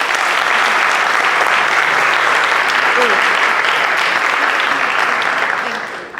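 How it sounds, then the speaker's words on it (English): An audience at a science event on sustainability applauds the speakers with sustained, even clapping that fills the room for around six seconds and tapers off at the close, with a faint voice briefly audible underneath. "A warm applause for our speakers."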